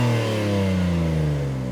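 A BMW M3 or M2 engine with no rev limiter revs hard and steadily at close range, its pitch sliding gradually as it roars on without any talking.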